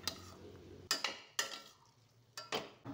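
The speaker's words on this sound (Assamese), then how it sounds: "ঢেকীয়াখিনি ফ্ৰাই কৰা হৈ গ'ল" Fiddlehead fern frying with onion in a pan, heard as a soft sizzle broken by several sharp clinks and scrapes of a spatula stirring against the pan.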